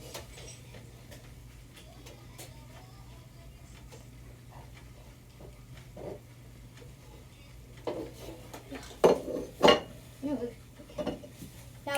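Mixing ingredients in a bowl for French toast with bacon, soft irregular clinks and scrapes under a low hum that turn into louder knocks near the end, with a voice speaking briefly.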